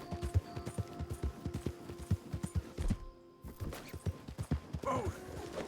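Rhythmic clip-clop of horse hooves trotting at a steady pace in a video game, moderately loud with a brief pause partway through and a soft whinny near the end.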